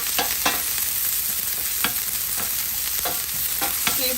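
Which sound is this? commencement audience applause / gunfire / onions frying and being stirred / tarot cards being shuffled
onions frying and being stirred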